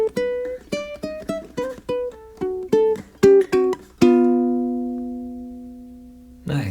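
A ukulele plays a bouncy blues lick of quick plucked notes with a few chordal hits, closing on a long ringing chord that fades out, close and clear.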